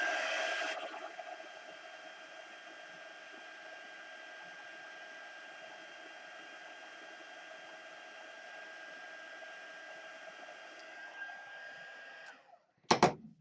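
An embossing heat tool blows a steady, moderate hum of hot air over embossing powder on hot glue dots for most of the time, then cuts off with a couple of clicks and knocks at the end.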